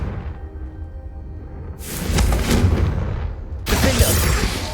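Confringo spell explosions in the Hogwarts Legacy video game, a loud fiery blast bursting in around two seconds in, then a second heavy burst near the end over a rumbling low backdrop.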